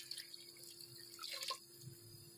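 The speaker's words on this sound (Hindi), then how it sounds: "तो मैंने तकरीबन इसके अंदर आधा जग जो है वो पानी का डाल दिया।" Water poured from a jug into a pot of beef and kachnar, a soft trickling splash with faint drips and a steady background hum, fairly quiet.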